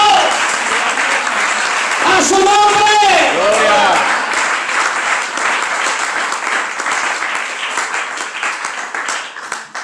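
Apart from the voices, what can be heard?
congregation applause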